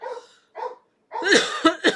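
A dog barks and yips several times up close, a couple of softer woofs first, then a louder burst of quick barks.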